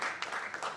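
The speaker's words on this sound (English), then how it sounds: "I think we can clap for this." Brief scattered clapping from a conference audience at an irrigation and climate event, a few soft claps close together, faint and short.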